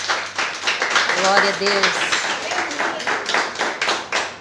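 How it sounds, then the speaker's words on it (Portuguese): Congregation clapping during a Portuguese-language revival church service, with rhythmic hand claps under loud voices that shout and sing praise. "Palmas para Jesus."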